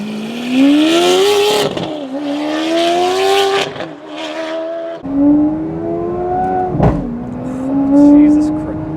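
A Lamborghini Aventador supercar engine revs hard in repeated climbing sweeps, loud and close, with sharp cracking exhaust pops punctuating the drops between rises.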